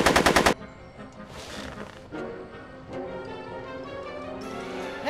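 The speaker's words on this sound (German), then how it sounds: "Ganz ehrlich, ich schieße jetzt zurück." Gunfire from the Back to the Future adventure game opens with a loud, rapid burst of about half a second of machine-gun shots, then fades into quieter game ambience and low background sound.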